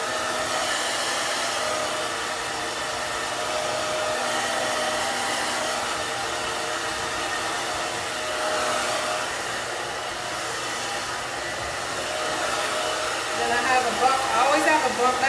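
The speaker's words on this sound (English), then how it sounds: "And then I use a hair dryer as well for this part to" A hair dryer blows steadily on a Belle Tress Toledo synthetic wig while it is being styled, a continuous close, loud airy whoosh with a slight rise in intensity near the end.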